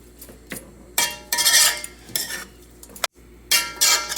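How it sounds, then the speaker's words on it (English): Pumpkin pieces stirred with spices in a pot, a metal spoon scraping and clanking against the pot in loud bursts with short pauses between strokes, close up and with no voices. "we're going to just add the pumpkin to our spices, and we're going to allow for it to be sauteed as well"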